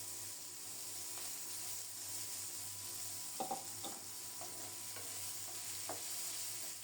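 Potatoes and chopped onions fry in a pan while being stirred, a soft continuous sizzle broken by a few clattering spatula scrapes partway through, close but fairly quiet, with no voices.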